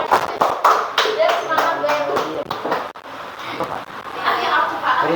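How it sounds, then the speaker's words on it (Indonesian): Applause for a group of students in a classroom teaching session, a short burst of clapping from a room of people with voices talking over it throughout. "Tepuk tangan dulu untuk kelompok 3."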